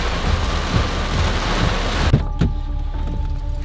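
Heavy rain pours steadily during an approaching thunderstorm, with a loud thunder crack around two seconds in and a second rumble soon after, then the downpour continues more softly.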